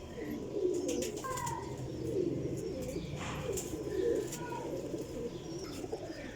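Several Teddy pigeons from a golden champion lot coo repeatedly in soft, throaty rolls at close range, joined by occasional chirps and a brief flutter of wings.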